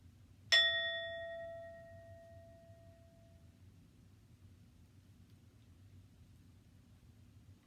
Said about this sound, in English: The bell will ring us in and out as we begin.